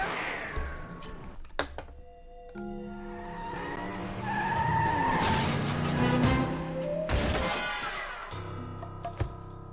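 A van speeds away in the Sly 2 video game, its tires skidding and squealing loudly over the engine roar, with thunks at the start and end and almost no talk.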